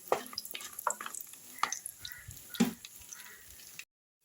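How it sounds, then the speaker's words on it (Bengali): Lentil dumplings (bori) fry in mustard oil left over from frying fish, a faint crackling sizzle with scattered pops and the scrape of stirring, ending abruptly in silence. "মাছ ভাজার পর বড়িটা আমি একটু ভেজে নিচ্ছি।"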